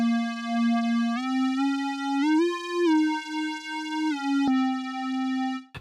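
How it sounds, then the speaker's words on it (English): A mono square-wave synth preset from the Expand plugin plays a bright, buzzy sustained melody in a beat, gliding between a few held pitches over about six seconds, loud and alone. "we got this sound called mono square. It sounds like this."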